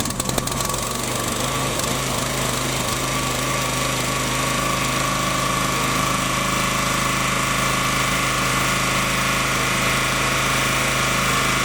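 Small gasoline engine on a Hyundai HYW3000P2 pressure washer running after a warm start with fuel on and throttle up, a steady, loud, close drone with a vibrating hum and a brief rough catch at the start.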